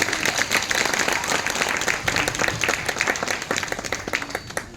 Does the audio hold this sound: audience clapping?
yes